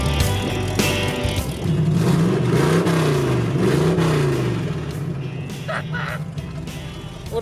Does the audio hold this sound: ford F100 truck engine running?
yes